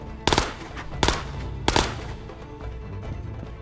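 Three sharp bursts of gunfire from a shooter firing from a high vantage point in the VR game Ghosts of Tabor, spaced about a second apart, loud and punchy, each with a short echoing tail fading into a quiet background.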